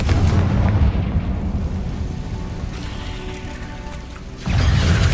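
A Confringo blasting spell erupts in Hogwarts Legacy, a loud, sustained rumbling blast that roars for several seconds, dips slightly, then surges again near the end.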